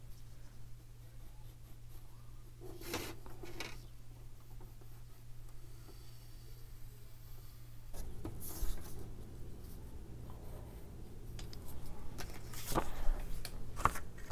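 A pencil drawing on the back cover of a CD case gives soft, close scratching and rubbing strokes that come in short bursts over a low steady hum, with a few louder scrapes near the end.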